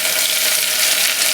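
Cut potato pieces go into hot oil for aloo kurma, a loud, continuous sizzle heard close up.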